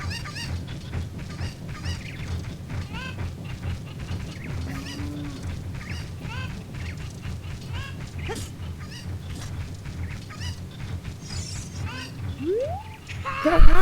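Cuckoo chickens cluck and squawk in Kakariko Village in the video game The Legend of Zelda: Ocarina of Time, with repeated short calls over a steady low background hum and a louder burst at the end.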